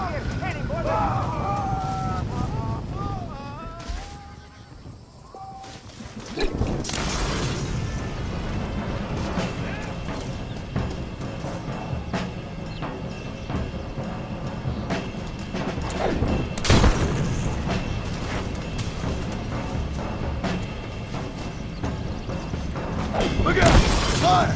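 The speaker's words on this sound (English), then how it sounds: "Escuchen cómo explota el castillo." A castle explodes in Red Dead Redemption with several loud blasts and crashing debris, one near the start and more later, amid game music and shouting voices throughout.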